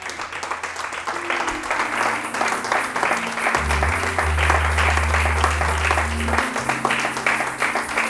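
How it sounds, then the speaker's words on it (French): A church congregation claps and cheers for Jesus during a sermon on grace, a dense, loud applause with a sustained low musical tone underneath. "Oh, qui peut acclamer pour Jésus ici, là."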